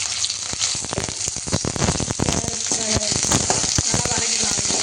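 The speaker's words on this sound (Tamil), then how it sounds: "நல்லா வதக்கிக்கலாம்." Green chili, ginger and onion sauté in a hot pan, giving a constant sizzle broken by repeated scraping and stirring clicks, close and fairly loud throughout.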